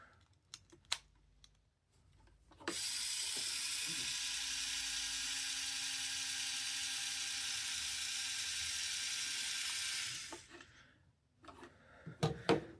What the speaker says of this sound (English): Also attach your motor to make sure it works.